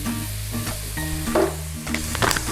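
A soup mixture for a suet pudding sizzling in a pan, a continuous close crackle with a low hum beneath and occasional stirring scrapes.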